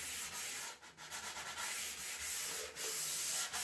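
Steady back-and-forth rasp of sandpaper rubbing on the wood of an end table, close and continuous, with short rhythmic dips between strokes.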